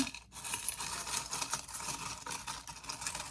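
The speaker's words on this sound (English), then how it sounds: "I'm going to shuffle these" Tarot cards being shuffled by hand for a love reading, giving a continuous papery patter and scraping of stiff cards, close and fairly soft, with no talking.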